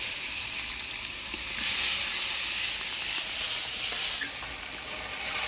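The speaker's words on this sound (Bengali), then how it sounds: "এবার দিয়ে দেবো হলুদ লবণ অল্প জল দিয়ে মশলাটা ভালো করে কষাই নিই" Spice paste of ground coriander, cumin and chili with turmeric, salt and a little water fries in a pan, a steady close hiss and sizzle throughout with no talking.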